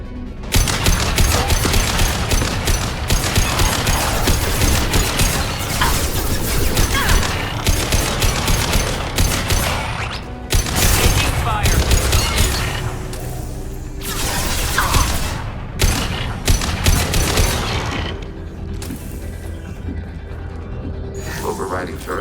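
Hacked turret in the video game Mass Effect 2 fires sustained bursts of loud gunfire with mechanical clatter, dense and continuous with brief lulls, while game voices speak over it.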